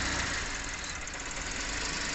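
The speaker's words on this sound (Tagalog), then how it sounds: "Kinggan nyo ang andar ng makina mga kalbularyo." A 2017 Toyota Vios with a manual transmission idles roughly, its engine running unevenly with a steady, close mechanical drone and irregular knocking pulses, heard alone without voices.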